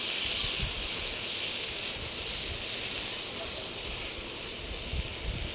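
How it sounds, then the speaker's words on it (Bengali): Chopped onion fries with hilsa fish heads in a pan for a Bengali taro-stem dish, giving a steady, loud, close hiss and sizzle that runs unbroken throughout with no voices. "পেঁয়াজ কুচিটা দিয়ে দেওয়ার পরে পেঁয়াজটা একটু ভালো করে ভাজা ভাজা করে নেব"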